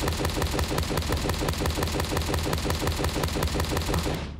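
Rapid automatic AK rifle fire in a homemade video game, a dense, steady stream of evenly spaced shots running nonstop at full loudness and cutting off at the very end.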